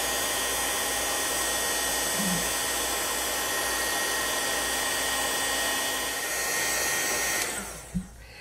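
Heat tool blowing steadily to melt embossing powder and embossing glitter, a loud continuous hot-air whir that cuts off near the end, leaving a faint click.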